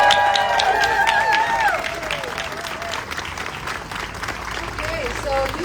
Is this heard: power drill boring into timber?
no